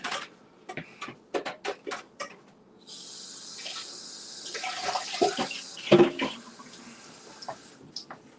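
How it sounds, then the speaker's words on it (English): Water runs from a faucet to rinse out homebrewing equipment on bottling day, a steady moderate stream lasting several seconds, set between scattered clunks and handling knocks at close range. "Rinse this out again."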